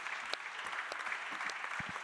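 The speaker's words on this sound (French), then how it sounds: "On peut l'applaudir, Jeanne Leboine." At a French round-table panel on family businesses, an audience applauds a guest with a brief, fairly faint patter of clapping that fills the room evenly for a couple of seconds.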